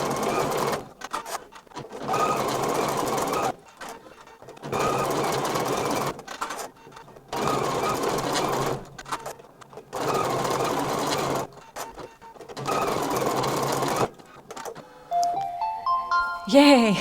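An embroidery machine stitches a sparkle tote bag design in repeated bursts of fast mechanical whirring separated by short pauses, close and steady, ending with a few brief beeps.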